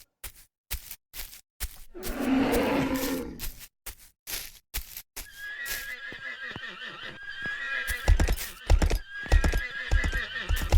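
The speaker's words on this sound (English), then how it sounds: "Oh, the horses in the town like crazy." Horses in a town in the video game Kingdoms whinny loudly and repeatedly, with clip-clopping hooves and other town bustle around them, and no talk.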